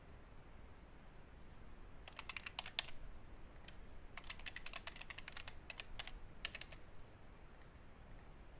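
Login details typed on a computer keyboard: two short bursts of quick, crisp key clicks, close and fairly faint, separated by a pause over a steady hiss of background noise.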